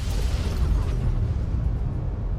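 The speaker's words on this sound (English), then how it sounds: "It's kind of a rapid fire rocket launcher" Red Glare rapid-fire rocket launcher in Fallout: New Vegas, a dense, continuous rumble of explosive bursts and low booms with no pauses, loud and close.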